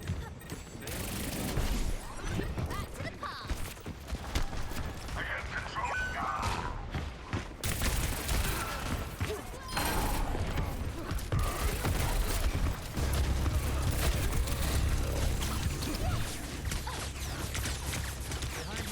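Gunfire and weapon handling in a shooter video game on the QP Tracer, clattering mechanical clicks, thumps and bursts of shots layered over a busy game soundscape, with occasional talk mixed underneath.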